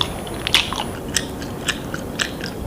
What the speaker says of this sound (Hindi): खाने को चप चप करते हुए चबाने का साउंड